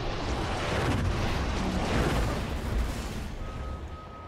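A missile launches in a Star Citizen Arena Commander space dogfight, a loud sustained whooshing roar with a rumbling blast that swells and slowly tapers off.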